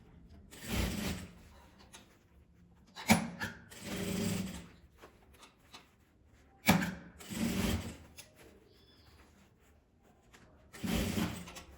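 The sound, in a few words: sewing machine stitching around a mini coin purse opening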